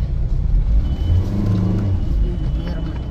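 A car engine drones and labours steadily at low pitch as the vehicle drives, a continuous close rumble with faint background noise and no clear talk.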